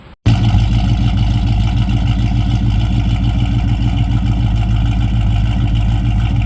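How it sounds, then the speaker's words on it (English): A Dodge Charger idles with a rattling exhaust where the tailpipe knocks against the rear shock, giving a loud, steady, close engine drone with a rapid repeating rattle that starts suddenly after brief quiet. "There is a rattle in my exhaust that I'm pretty sure my tailpipe is like hitting my shock in the rear"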